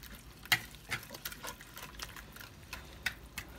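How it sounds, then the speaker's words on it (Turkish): Parsley, dill and spring onion for kaygana being stirred, a spoon scraping and tapping in a bowl in a few light, irregular clicks, close and quiet. "Şimdi bunların hepsini yine güzelce şöyle bir karıştıralım."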